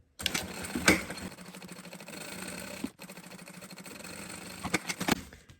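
A sewing machine stitches all the way around a synthetic leather ruffle on a travel case, running in a fast steady whir that breaks off briefly midway, then resumes with a few uneven bursts near the end.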